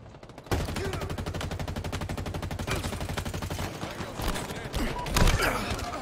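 Sustained rapid-fire bursts from the Spartan machine gun in Halo Infinite, a dense, loud rattle of shots that runs almost continuously for several seconds, with some other game noise and a voice mixed in over the gunfire.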